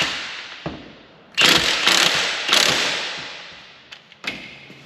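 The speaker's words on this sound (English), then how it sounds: "drive that on home with our impact" Impact wrench driving a bolt home on a Daihatsu Midget II engine during timing belt work, two loud sustained bursts of about a second each, close up, with softer clicks and a short final burst.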